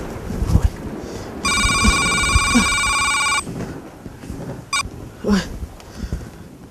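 A telephone rings with one sustained electronic trill lasting about two seconds, followed by a short second burst, amid background voices and movement.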